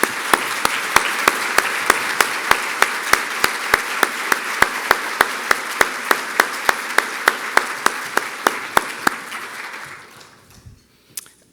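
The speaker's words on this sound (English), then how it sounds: "Would you join me in giving them a round of applause?" An audience at an awards ceremony breaks into sustained applause, a dense wash of many hands clapping with sharper individual claps punctuating it, holding steady for about ten seconds before fading away.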